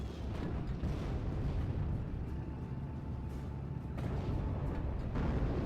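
A Company of Heroes artillery barrage pounding a 17-pounder gun: continuous rolling rumble of distant explosions and shell bursts, with a sharper blast about four seconds in, under a thin game tone.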